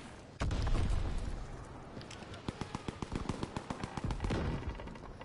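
Call of Duty WW2 multiplayer battlefield with a sudden loud burst of weapon fire, then a steady rhythmic string of sharp individual gunshots, about a dozen evenly spaced cracks, over a dense rumbling combat background.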